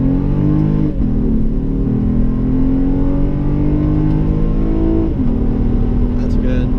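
A 2007 Acura TL accelerates hard after heavy braking, its engine note climbing steadily in pitch with a brief dip near a gear change, loud and continuous from inside the cabin.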